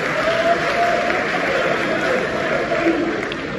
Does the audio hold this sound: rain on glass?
no